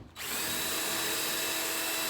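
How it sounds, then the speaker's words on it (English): Power drill boring holes into a giant baseball glove trophy sculpture, starting after a brief quiet moment, then a steady, loud, continuous whine running to the end. "I'm just gonna drill some holes"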